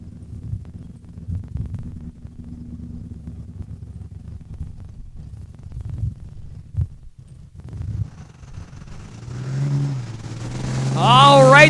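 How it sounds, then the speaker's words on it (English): A big diesel drag racing vehicle roars down the eighth-mile track at Saskatchewan International Raceway, its engine rising in a building throaty rumble that grows louder toward the end, over crowd and background noise. "the big diesel making its way down the 8th"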